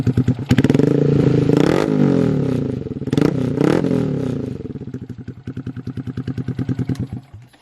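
A warmed-up 2022 Honda Grom motorcycle fitted with a DH Motoring S1 cam revs loudly up close, its choppy engine surging in repeated bursts and then settling into a rapid, pulsing idle-like chop.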